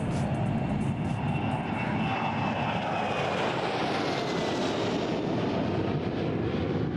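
An airplane engine roars loud and close at Perth Airport, a continuous, heavy drone with a faint shifting whine above it, with no break and no voices.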